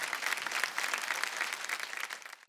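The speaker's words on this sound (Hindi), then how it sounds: "भाई जोरदार तालियां हो जाएं।" A studio audience on a televised folk singing reality show bursts into brief, fairly soft applause, a dense patter of clapping that cuts off abruptly after about two seconds.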